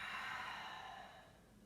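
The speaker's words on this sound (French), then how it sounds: "Et bouche ouverte, complète expire." A long, soft breath is pushed out through an open mouth during a yoga sun salutation, a single close exhale that fades gradually.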